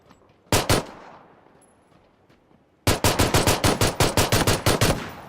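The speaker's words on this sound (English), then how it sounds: "He's still shooting at me." Gunfire from the video game PUBG in a pistols-only match: one loud burst of shots, a quiet gap, then a long rapid string of about a dozen sharp, close reports.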